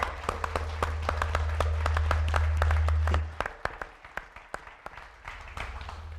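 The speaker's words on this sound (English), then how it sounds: "give Kirby and all of his staff a big round of applause for the best conference" A conference audience applauds with steady clapping that fades out after about three seconds, leaving a few scattered claps over a low hum.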